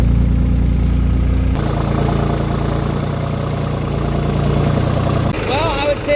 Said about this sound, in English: I would say this tractor's maybe just a little bit small for this manure spreader.